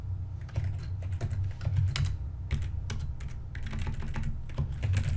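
Rapid, continuous keystrokes on a computer keyboard click away up close for several seconds above a constant low hum, with no talking.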